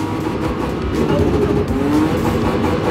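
A BMW 320i E36 accelerating during a drift lesson, a loud close engine roar rising in pitch as the revs build, heard from inside the car.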